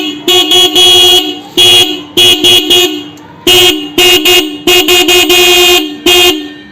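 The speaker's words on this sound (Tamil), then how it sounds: "இப்போ நம்ம சாவி ஆன் பண்ணிட்டு ஹார்ன் எப்படி அடிக்குதுன்னு செக் பண்ணுறோம்." A vehicle's original horn and an added extra horn, wired through a newly fitted ready-made relay kit, blast loudly up close in about a dozen short bursts of uneven length with brief gaps between, and no talking.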